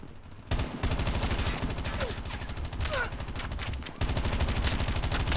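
Rapid automatic gunfire in the mobile shooter Call of Duty Mobile during a hardpoint match, loud and nearly continuous bursts with a brief pause partway through, close and dense.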